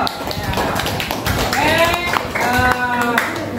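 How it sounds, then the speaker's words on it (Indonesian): A sixth-grade class in an elementary classroom claps for a classmate, a short burst of hand claps mixed with children's voices chattering over it. "beri tepuk tangan untuk L."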